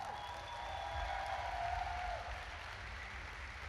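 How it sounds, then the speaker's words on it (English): Applause from the crowd at a DreamLeague Dota 2 esports event as Alliance wins the first match against EG, a steady wash of clapping that swells slightly, with tonal hum beneath. "big round of applause for Alliance for winning the first match"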